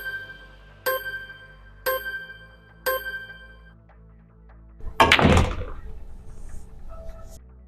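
In a pool-carom game, three clear ringing ball clicks come at steady one-second intervals, then a louder, noisier clatter of the shot as balls strike the rail, fading into faint scattered knocks.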